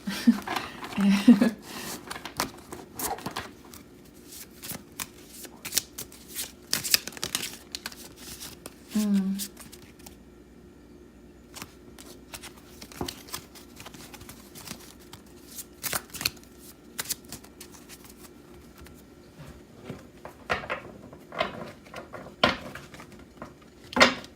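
A tarot card deck is shuffled repeatedly up close, with riffling bursts and soft slaps and shuffles spread throughout.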